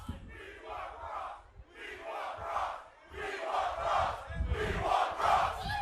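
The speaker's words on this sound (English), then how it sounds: "the crowd was chanting, "We want Cross,"" Wrestling crowd chanting "We want Cross" in a large arena, a loud rhythmic group chant repeated in four swelling phrases, growing stronger toward the end with no other voices over it.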